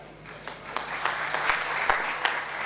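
Audience at a Punjabi comedy stage drama claps in a steady, moderately loud round of applause, with sharper individual claps standing out through the wash.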